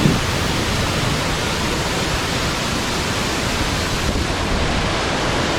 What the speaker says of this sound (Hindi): पेलिंग से देंताम जाते हुए आपको रास्ते में मिलेगा ये झरना।